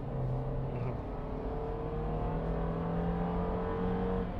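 A 2018 Daihatsu Terios accelerates, its engine note holding a steady, moderate hum that rises gently in pitch over a few seconds, heard from inside the cabin with no talking.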